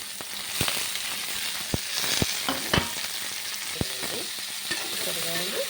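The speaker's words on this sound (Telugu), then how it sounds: "బాగా వేయించాలి. ఆయిల్లోనే వాడుకోవాలి." Broad beans (flat bean pods) frying and sizzling in hot oil, a steady bright crackle throughout with repeated scraping clicks of a spatula stirring the pan, close and fairly loud, no voices.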